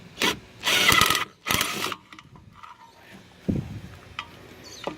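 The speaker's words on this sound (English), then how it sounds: "Take these screws out" Screws are backed out of a die cast aluminum knob while scrap is stripped, giving bursts of ratcheting, grinding screwdriver noise followed by softer clicks and handling sounds close by.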